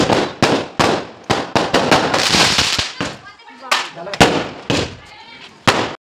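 Firecrackers burst to welcome a bride and groom stepping out of their car at a wedding: a rapid string of loud, sharp pops, about a dozen bangs at uneven intervals with crackling between, while voices carry on underneath.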